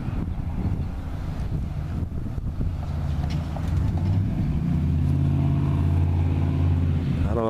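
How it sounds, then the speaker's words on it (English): A truck passes by fast and aggressively, its engine swelling from a distant rumble to a loud, close roar with heavy wind buffeting on the microphone. "Watch this truck. He drives like that every time."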